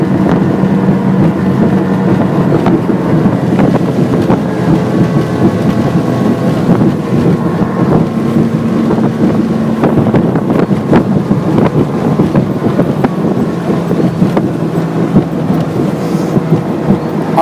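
Quintrex 510 Cruiseabout motorboat running near 70 km/h into the wind and tide, a loud continuous engine roar mixed with heavy wind buffeting and hull slap throughout.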